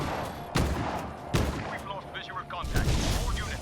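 Enemy radar tower blown apart in Just Cause 3, with three heavy booming explosions spaced about a second apart, each a sharp loud burst trailing into crackling debris and rumble.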